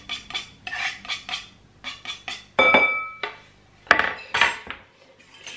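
Cookie dough made with vegetable oil and freshly chopped rosemary is stirred in a bowl, producing close scraping strokes and clinking utensil knocks in uneven bursts, with no talking.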